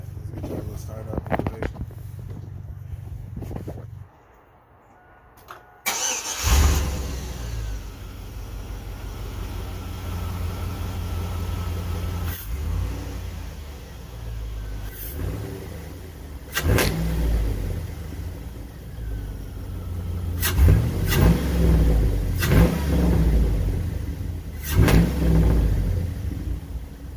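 A 1998-2006 Chevy Tahoe 5.3 V8 fitted with a cold air intake cranks and starts after a short quiet pause, then idles and takes several sharp revs, loud and close.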